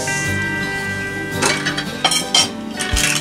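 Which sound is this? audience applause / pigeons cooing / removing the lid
removing the lid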